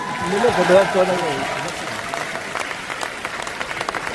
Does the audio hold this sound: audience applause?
yes